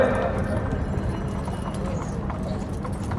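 Nukra horses' hooves clip-clop at a horse show in Jagraon, a busy, steady patter under loud announcements and crowd noise.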